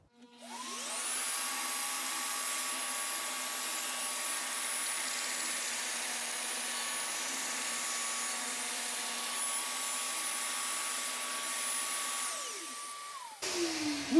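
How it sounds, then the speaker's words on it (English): A large electric sander drones steadily and loudly for a long stretch with a high whine, then winds down and stops. "Let's see if this big sander upside down will sand it."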